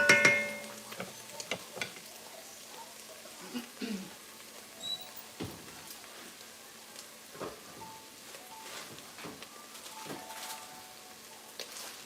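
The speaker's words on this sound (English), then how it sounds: "So got this sauteing here." Sautéing in a pan for navy bean soup, a low, faint sizzle with sporadic stirring clicks and scrapes under quiet surroundings.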